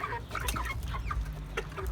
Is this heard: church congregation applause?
no